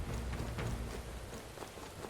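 Steady rain falls in the video game Metaphor: ReFantazio, a dense hiss with scattered droplet patters and soft low rumbles, playing continuously with no voices.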